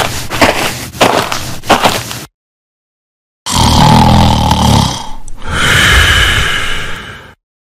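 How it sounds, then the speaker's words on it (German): A person snoring in a school toilet, with loud, rasping breaths in two separate bursts after a short stretch of other sound and a gap of silence. "Ist das Schnarchen?"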